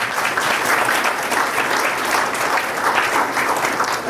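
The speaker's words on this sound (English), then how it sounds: "Let's give her a round of applause." A crowd at an art exhibition launch at the Penang State Art Gallery applauds steadily, a dense, even wash of clapping held at one level for the whole stretch.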